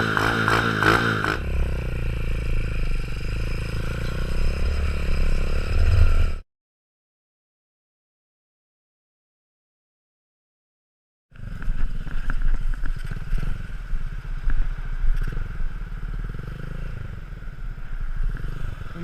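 Engine noise from a 125cc manual four-speed motorcycle on the move, a steady buzzing drone with road rumble, cut by a few seconds of silence before resuming.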